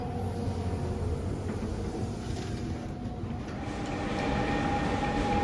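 Steady low rumble of a train rolling along in Braunschweig, Germany, broad continuous noise with a faint tonal hum, no voices.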